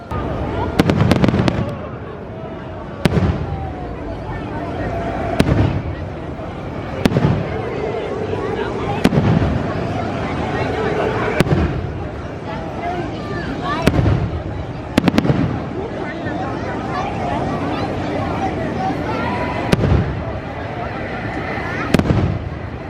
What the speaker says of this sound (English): Americans do love their fireworks.